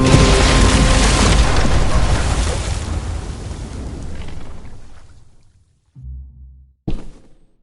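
A bomb explodes in The Walking Dead Season 4 video game: a loud, deep boom with a long rumbling decay that fades into near silence, then a couple of short muffled thuds.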